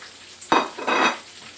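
Pork loin in a skillet gives off a soft steady sizzle, with a brief louder hiss and scrape as the pieces are moved or lifted out of the pan; nobody talks.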